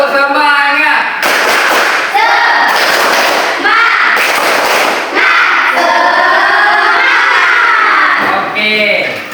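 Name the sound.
class doing a rhythmic spirit clap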